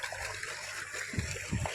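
Water pumped by a motor pours onto a rice seedling nursery in a field, a steady broadband rush and splash that stays fairly even throughout, with a few louder low surges near the end.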